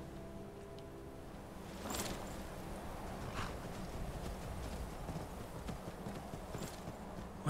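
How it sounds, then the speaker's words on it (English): Horse hooves clip-clop in Skyrim, a faint, steady walking rhythm of light thuds with a few sharper clacks, alone without talk. "Oh, your horse was only knocked unconscious."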